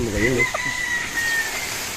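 Near poultry calls from a hen among Red Goldenboy gamefowl, with a rooster's crow trailing into a long high note, under a murmur of voices.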